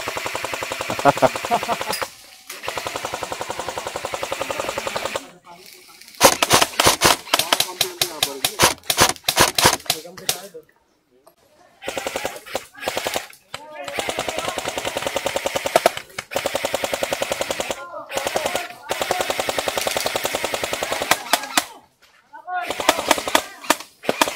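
Airsoft guns firing in rapid automatic bursts during an outdoor milsim battle, with long rattling volleys broken by short pauses, loud and close, while players talk over the shooting.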